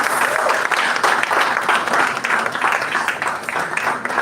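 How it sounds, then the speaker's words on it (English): An audience at an HR conference claps as a speaker is welcomed to the stage, a loud, dense, sustained round of applause with slight swells throughout. "Please keep clapping."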